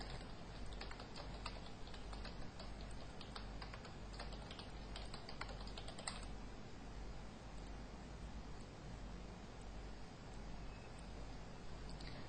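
Steady computer keyboard typing during a CorelDraw 12 lesson, with dense light key clicks over the first half that thin out later against a constant low hum. No one speaks.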